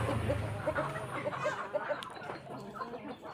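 Free-range village chickens cluck in a busy, overlapping chorus at a poultry farm, a steady stream of short repeated calls close by with farmyard background.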